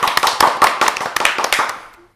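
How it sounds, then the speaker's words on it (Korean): A short burst of hand clapping, a handful of people applauding briefly and unevenly before it fades out. "박수 한번 칠까요?"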